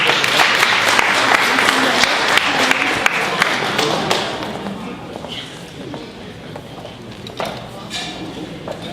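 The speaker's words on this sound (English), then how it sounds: "Please give them a round of applause as they come." Audience applause fills the room at a birthday celebration, a dense burst of clapping that stays loud for several seconds, then thins and fades toward the end.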